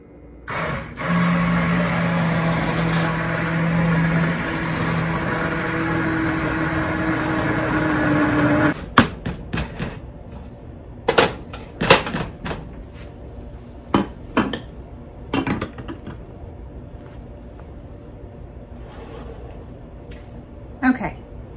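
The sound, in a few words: immersion blender blending hot pepper sauce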